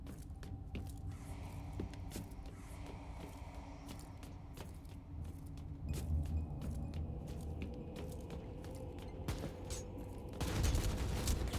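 Rapid bursts of gunfire from the video game Warhammer 40,000: Inquisitor – Martyr, with sharp repeated shots over a steady low rumble and a louder cluster of firing near the end.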